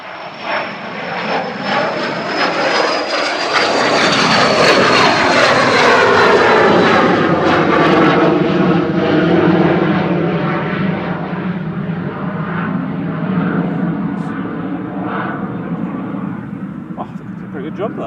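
A Cessna Citation business jet lands at Oxford on a windy day, a loud, close jet roar with a whining engine tone that sweeps downward as it passes, swells, and then fades slowly to a steady rumble.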